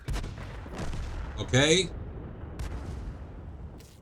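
Tank gunfire in the World of Tanks video game: a few sharp distant cannon shots and one louder ringing blast in the middle, with someone speaking briefly over the battle noise.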